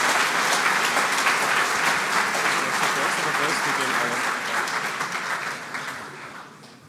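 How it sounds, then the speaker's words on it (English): An AI summit audience in Vienna applauds speaker Sepp Hochreiter, with sustained, even clapping across the hall that gradually tapers off toward the end, and some voices faintly beneath it. "Give a big applause to Sepp Hochreiter,"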